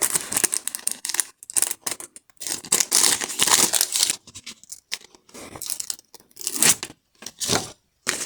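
Crinkly plastic rustling and tearing in bursts as a sticker packet is opened, close up, with short pauses, ending in a few sharp crackles.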